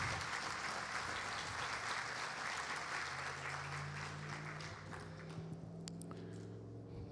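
Clapping from a church audience after a talk at a Feast of Unleavened Bread gathering, a sustained, even patter of applause that softens in the last seconds while a low tonal hum rises beneath it.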